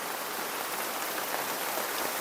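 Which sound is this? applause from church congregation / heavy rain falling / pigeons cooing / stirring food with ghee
heavy rain falling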